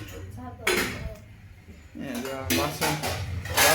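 Dishes and utensils being arranged in a home kitchen, with clattering clinks and knocks in a few bursts, a voice talking in between.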